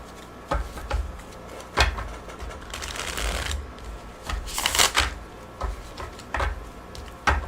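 A deck of cards, some sticking together, riffled and shuffled over and over, each burst of rapid flutters close and crisp with short pauses between.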